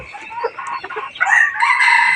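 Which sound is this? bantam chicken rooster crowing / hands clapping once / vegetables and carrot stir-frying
bantam chicken rooster crowing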